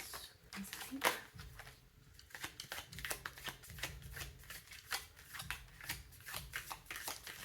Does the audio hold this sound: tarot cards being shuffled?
yes